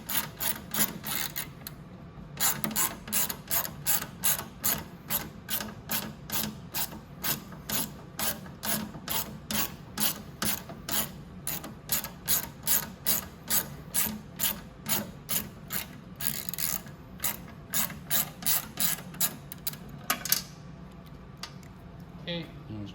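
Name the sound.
unscrewing a tight part on a Venom 125cc mini jeep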